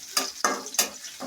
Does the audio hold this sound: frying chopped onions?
yes